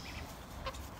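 Chickens cluck softly among ducks and other fowl in a backyard enclosure, a brief faint call over a low, steady background hum.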